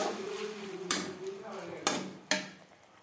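Tomatoes mashed with a metal spatula in a pan for a Bengali-style tilapia fish curry: three sharp scraping knocks against the pan, spaced about a second apart, over a low background hum.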